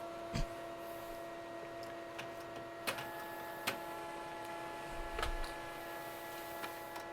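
An office printer runs steadily while printing pages, with a constant hum and scattered mechanical ticks and clicks as the sheets feed through.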